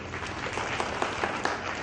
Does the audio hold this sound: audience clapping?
yes